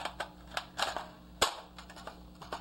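AR15 magazine being inserted into a rifle and locking in place, a series of quiet, sharp metallic clicks and clacks at close range, with one crisper snap partway through.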